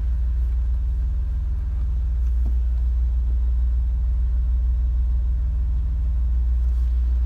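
A car engine idles steadily up close after its first start in a couple of months, a deep, even low rumble that holds for several seconds with no talk.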